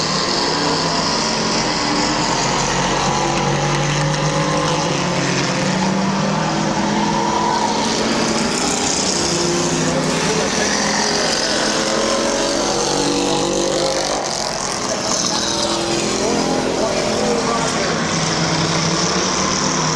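Race cars roaring around Midvale Speedway, a continuous wash of engines rising and falling as they pass, loud and sustained, with a public-address voice faintly under the noise.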